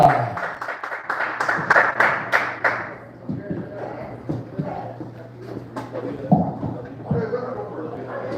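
A burst of clapping from a small comedy show audience for a few seconds, fading as a voice begins talking and a low hum continues.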